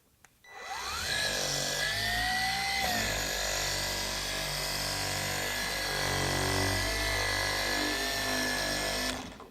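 A Ryobi PBF100 dual action polisher runs at about 4,800 orbits per minute with polish on the pad, giving a steady close whine that rises in pitch as it spins up, then holds level for several seconds before cutting off.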